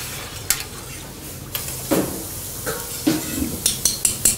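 About 55 grams of organic sugar stirred into a barley drink mixture, with spoon scrapes and clinks against the container that turn into quick, regular taps toward the end.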